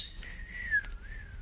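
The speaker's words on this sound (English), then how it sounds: "I whistle like this." A person whistles a wavering, sliding tune during a live stream, a single clear high note line that rises and falls for over a second, fairly close with a faint background hum.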